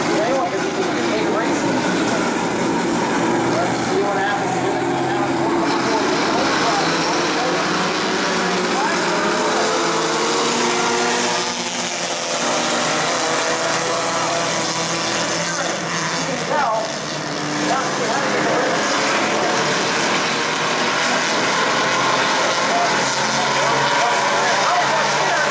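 Bomber-class race cars roar around the New Smyrna oval, a loud continuous blend of engines rising and falling as the pack passes, with a voice talking over the noise.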